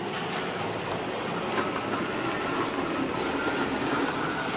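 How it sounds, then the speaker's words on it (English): Bachmann model locomotives running on an outdoor layout with mainline stock, giving a steady continuous rolling rumble and faint clatter throughout at moderate level, with no voices. "These are all Bachmann locos today."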